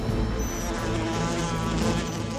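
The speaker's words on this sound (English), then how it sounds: "Wasps." Wasps buzz close by near a pond, a steady droning hum with wavering pitch that continues throughout.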